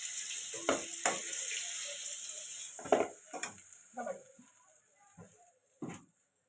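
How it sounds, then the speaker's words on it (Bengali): Lentil bori frying in oil left over from frying fish: a faint, soft sizzle under scattered utensil taps and scrapes that come in short bursts, with quiet gaps between them. "ওই তেলে বড়িগুলো ভেজে নেব।"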